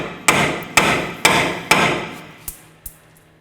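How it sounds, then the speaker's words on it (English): Six sharp metallic hammer strikes on a chisel ring out at a steady pace while removing a 2013-2019 Nissan Sentra front steering knuckle, the first four loud with ringing decay, the last two lighter taps. "we're going to continue on with our hammer. We'll give this a couple light taps"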